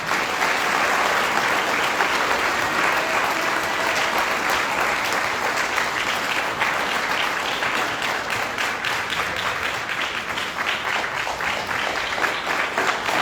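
Sustained, loud applause fills the hall at the Edgewater Health 50th anniversary gala as Dr. Woods is honored for 29 years of service, a dense, unbroken wash of many hands clapping without letup.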